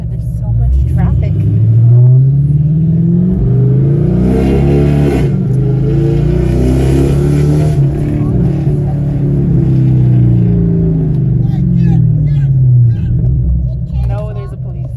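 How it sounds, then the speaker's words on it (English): Loud, close engine rumble and revving from Holden Commodore cars in a street parade, with swelling and fading passes, voices talking throughout. "This neighborhood, there's so much traffic."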